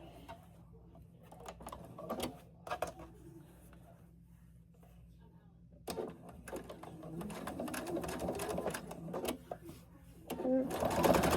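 A sewing machine stitches a cushion in short stop-start bursts, then runs longer at close range. A voice talks faintly over parts of it.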